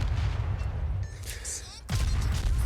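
Naval guns fire at the enemy destroyer Nicholas in World of Warships, heavy booming shots layered over constant low engine rumble, with a sharp loud burst near the end and speech-like sound mixed in.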